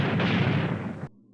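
Flak barrage sound effect from the B-17 Flying Fortress Leader board game: a loud, dense rumble of bursting artillery fire that fills just over a second and then cuts off abruptly.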